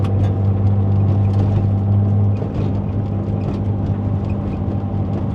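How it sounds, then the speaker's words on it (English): A 1979 Datsun 280ZX with a fuel-injected L28E engine and a louder-than-stock free-flowing exhaust rumbles at a low, steady idle, a deep throbbing note close by that eases slightly partway through. "The exhaust is louder than stock, but not annoying."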